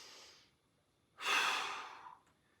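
A single deep breath taken during a hip mobility stretch, a faint inhale trailing off, then a louder, drawn-out breathy exhale close to the mic, with no talking.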